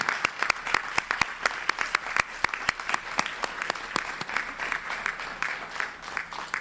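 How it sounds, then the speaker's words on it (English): Audience at an event on North Carolina HBCUs giving panel presenters a round of applause, a sparse crowd with a few loud, sharp individual claps standing out in an uneven rhythm throughout. "We want to give you a round of applause."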